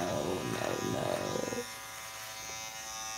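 An electric razor buzzes in loud pulsing bursts for about a second and a half while shaving, then cuts off, leaving quiet room tone.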